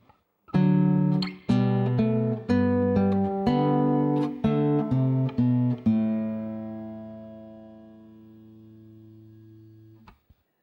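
A plucked guitar plays measures 7 and 8 of Minuet in G, a short, slow melody of single notes and chords, then lets the final chord ring out and fade gradually.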